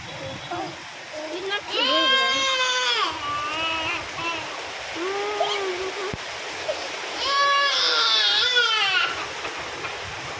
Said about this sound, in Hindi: मेरी बेटी कितना रोए जा रही है।